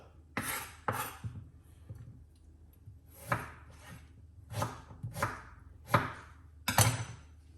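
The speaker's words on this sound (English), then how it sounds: "I'm just removing the skin from the ginger." Skin being peeled off fresh ginger, heard as about eight sharp, separate scraping strokes close up in a quiet kitchen, with short pauses between them.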